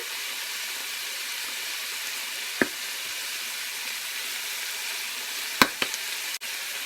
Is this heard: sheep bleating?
no